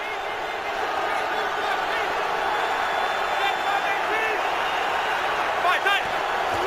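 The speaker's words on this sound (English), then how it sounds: "A lot of crowd noise for the Giants to deal with" Steady roar of a large stadium crowd at an NFL game, Giants visiting the 49ers in San Francisco, a dense continuous wash of voices filling the whole clip with faint whistles and shouts rising from it.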